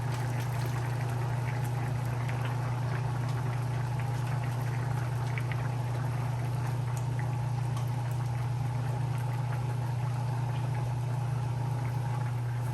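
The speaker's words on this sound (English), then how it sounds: "I'm just gonna leave it to boil a little, then I add my fish." Liquid simmers steadily in a pot for Jamaican-style steamed fish, a constant low bubbling hiss with a steady hum, close and moderately quiet, with no voices.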